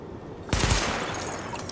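Weapon gunfire in Tom Clancy's The Division, a sudden loud burst of rapid automatic shots breaking a quiet background, followed by a ringing, decaying tail.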